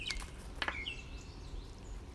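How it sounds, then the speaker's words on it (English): Birds chirp in the distance outdoors, giving a few brief, high chirps near the start over a steady low background hiss. "and listen to the birds."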